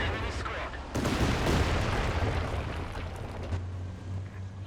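A Katyusha-style rocket barrage strikes infantry in Company of Heroes 2, a dense rumbling wash of explosions and rocket fire lasting several seconds, with a commentator talking over it.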